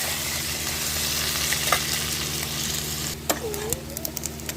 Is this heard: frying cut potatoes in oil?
yes